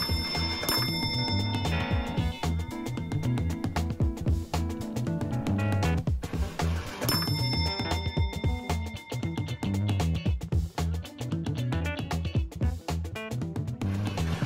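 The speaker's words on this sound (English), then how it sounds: "the balls would hit the bell and make a nice sound" Metal balls rolling through a rolling ball sculpture strike a bell, producing bright ringing tones that sustain and overlap amid a constant clatter of rolling and ticking, close and fairly loud, with no talking.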